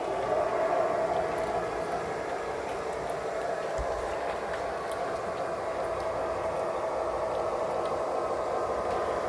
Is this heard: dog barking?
no